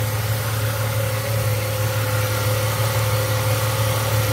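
A 1997 Ford Mustang with the 3.8 engine idles steadily, a constant close low hum with an even mechanical drone and no break.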